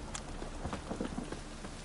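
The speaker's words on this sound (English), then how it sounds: "Rain again." Rain falls steadily in The Witcher game world, a soft, faint patter with a few scattered drips over a quiet background hiss.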